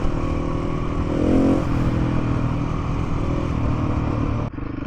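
A 2024 KTM 690 Enduro R is ridden with a steady, droning engine note that swells briefly and then holds even, before dropping sharply near the end.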